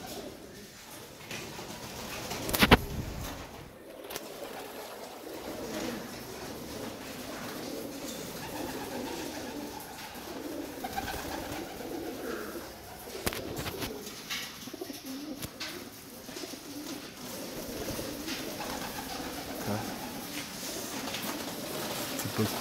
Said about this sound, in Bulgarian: Гълъбчета да покажем.